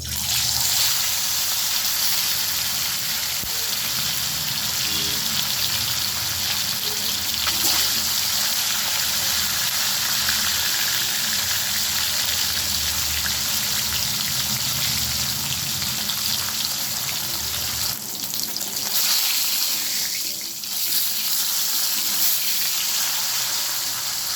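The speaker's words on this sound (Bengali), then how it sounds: "তেলটা আমি খুব ভালোভাবে গরম করে নিলাম, নিয়ে এবার মাছটা আমি ভেজে নিচ্ছি।" Mrigal fish frying in hot oil in a wok, a steady loud broadband sizzle that carries on without a break, with a short shift in texture near the end.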